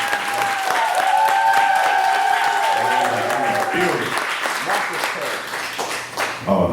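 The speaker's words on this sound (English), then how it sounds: "Give a hand clap for that." A crowd at a birthday celebration claps and applauds loudly and steadily for several seconds, with voices calling out over the dense clapping before it thins near the end.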